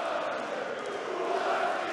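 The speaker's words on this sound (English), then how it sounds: "And the crowd are getting stuck in." A darts crowd at a PDC European Tour match in Riesa, Germany, cheers and chants together in a continuous, dense roar that holds steady throughout.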